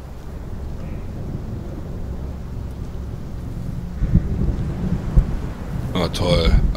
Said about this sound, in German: Jetzt zieht auch noch ein Gewitter auf.